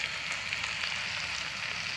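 Pumpkin greens frying in a pan with chili, crushed garlic, green chili and chopped onion, a steady close broadband sizzle that holds even and continuous throughout with no talk.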